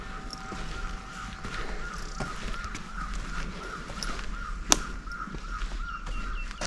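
Bird calls, including crow-like caws, scattered over steady outdoor ambience on a forested mountain trek to Dev Kamrunag temple, with one sharp brief sound near the middle; no talking.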